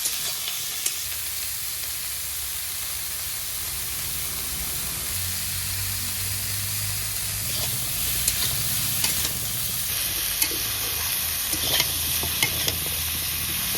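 Vegetables with fried lentil dumplings, pumpkin and drumsticks sizzle steadily in a pan, close and continuous, as a utensil stirs with occasional scrapes and clicks. A higher hiss joins toward the end, and no one speaks.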